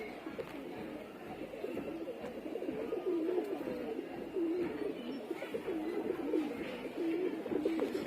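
Racing pigeons coo repeatedly in low, rolling phrases close by, a steady run of soft calls over a continuous background hum.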